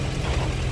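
A Datsun 1000 engine idling on its own, a steady low, even rumble held close and fairly loud throughout, with no talk over it.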